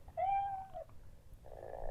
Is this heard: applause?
no